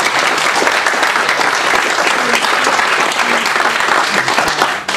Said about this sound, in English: So we need to give him a round of applause.